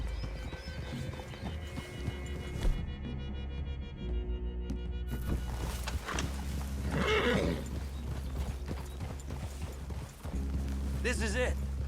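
Horses neigh and whinny while hooves clip-clop nearby in Red Dead Redemption 2, with voices talking over the animals and a loud game soundscape behind.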